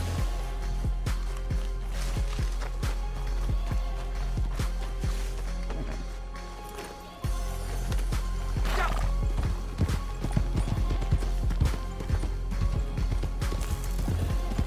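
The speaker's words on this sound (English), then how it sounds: "Get on the horse and I will show you the correct trajectory for running." Horse hooves gallop in a fast, even clip-clop rhythm in the Red Dead Online video game. The sound is loud and close, with a brief dip midway before the pounding resumes more strongly.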